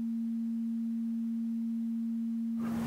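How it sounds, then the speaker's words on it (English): A simple sine wave holds a steady, pure, unwavering pitch for nearly three seconds before a brief burst of broadband noise cuts in at the very end. "So again, we're going to start with this simple sine wave."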